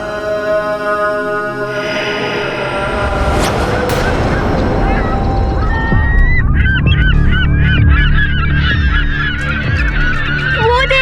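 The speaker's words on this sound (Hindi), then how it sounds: "वो देखो, वहाँ पे पक्षी दिखाई दे रहे हैं।" Geese honk repeatedly over a dense, loud scene in a mythological drama, the calls coming in quick clustered bursts during the second half over a rumbling low background with booming hits.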